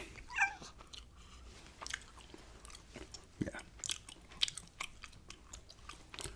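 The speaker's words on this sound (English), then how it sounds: "The cat's actually right here." A cat close by makes faint, soft chewing and crunching sounds with a brief meow-like note near the start, over a quiet, intimate background.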